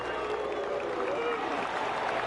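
A golf tournament gallery applauds and cheers in a steady, dense wash of clapping that holds at even strength throughout, with crowd voices mixed into it.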